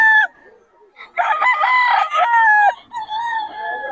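A young rooster, a stag, crows loudly and close by at a busy market, giving a short, strained call, then a clucking follow-up.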